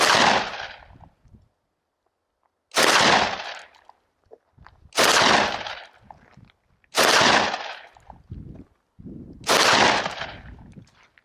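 Five loud, sharp gunshots from a semi-automatic 12-gauge shotgun firing slug rounds outdoors, evenly spaced about two seconds apart with quiet gaps and short echoing tails between them.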